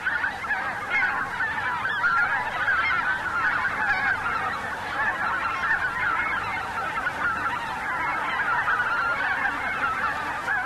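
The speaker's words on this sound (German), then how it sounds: "Mehr und mehr Gänse treffen ein." A large flock of geese feeding on frozen rapeseed leaves honks continuously, many overlapping calls forming a steady, dense chorus without pause.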